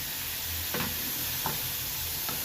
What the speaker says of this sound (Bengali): এখানে অ্যাড করছি কতগুলো কাঁচা লঙ্কা